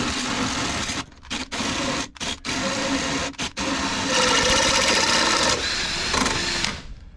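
A Ryobi cordless drill runs in a homemade tube bender during a boat light bar build, whirring in loud bursts with several short pauses before a longer sustained run and a final stop.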